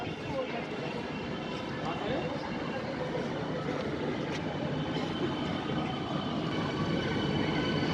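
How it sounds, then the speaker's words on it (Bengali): An air-conditioned local train pulls into Naihati station in India, a loud continuous rumble and roar of the wagons with faint rail squeal, while people talk over it on the platform. "ট্রেন ঢুকছে"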